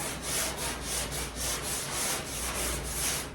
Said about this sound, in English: now we're going to sand till all of the black guide coat disappears